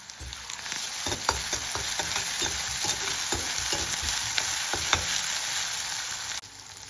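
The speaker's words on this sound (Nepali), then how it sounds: "प्याज यतिको फ्राई भइसकेपछि लसुन र अदुवाको पेस्टलाई राखेर एकछिन चलाउनु होला।" Garlic and ginger paste frying with onions for chicken momo keema, stirred steadily: a loud, continuous sizzle broken by repeated scraping strokes of a spoon against the pan, with no voices.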